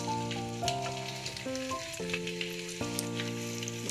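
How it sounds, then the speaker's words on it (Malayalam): Chopped garlic frying in hot oil in a pan for chicken fried rice, a steady close sizzle with crackling bursts while tonal notes of background music play beneath. "ചട്ടി എണ്ണ ഒന്ന് ചൂടായതിന് ശേഷം നമ്മൾ അരിഞ്ഞു വെച്ച വെളുത്തുള്ളി അതിലേക്ക് ഇടുന്നുണ്ട്"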